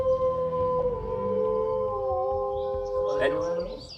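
Australian wild dogs, dingoes, howling in long sustained wavering tones that overlap and slowly shift pitch, fairly loud and close, with a sharper yelp near the end.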